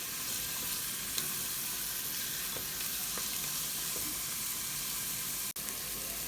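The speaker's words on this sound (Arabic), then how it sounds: "بقلبهم لحد ما تدبل البصلة" Diced onion sautés in a pot for lentil soup, giving a soft, steady sizzle with occasional light scrapes of stirring and one sharp click near the end; quiet overall.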